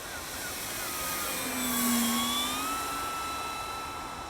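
A Dynam Hawker Hurricane Mk I radio-controlled model plane on a maiden flight, its small electric motor whining in a thin, rising and falling drone as it passes, swelling slightly then fading, fairly distant.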